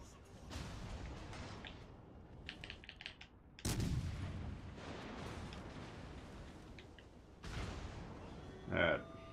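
Naval guns firing in the World of Warships Legends console game, several heavy booming salvos with long rumbling tails spaced a few seconds apart, loud and close over a quieter background of battle noise.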